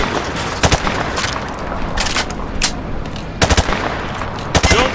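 Automatic rifle fire in Call of Duty Modern Warfare 2, shot from the hip: several loud, close bursts of rapid shots separated by short pauses, with echoing booms between volleys.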